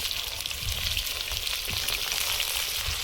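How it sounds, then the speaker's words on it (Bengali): Chicken pakoras fry together in a pan of hot oil, a loud, dense, continuous sizzle close by, with faint crackling and no voices. "এবার সব একসাথে করে ভাজবো"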